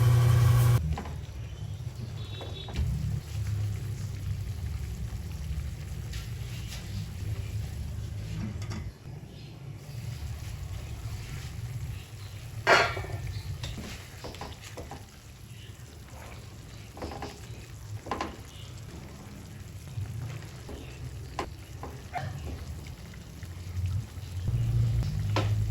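Chicken adobo sauce simmering in a pan, a low steady bubbling with faint sizzle and occasional clinks and scrapes of stirring, moderately close and fairly quiet throughout.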